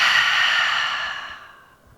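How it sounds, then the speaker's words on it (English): A big breath pushed out through the mouth during a yoga breathing exercise, a long breathy exhale that starts strong and close and fades away over two seconds, with no talking. "Big breath out of the mouth."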